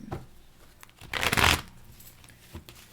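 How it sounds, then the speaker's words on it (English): Tarot cards shuffled by hand, a brief crisp riffling burst of paper flutter in the middle, with light card taps and handling before and after, close and alone. "I'm going to shuffle again because it's keep coming out."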